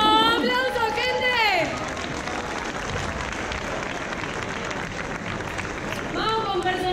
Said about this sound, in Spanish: ¡Aplauso, gente!